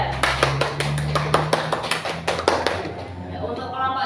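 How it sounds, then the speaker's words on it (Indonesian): Students applauding for a group in a classroom, a burst of sharp, uneven hand claps close by that thins out toward the end, with a low hum underneath. "tepuk tangan untuk kelompok 3"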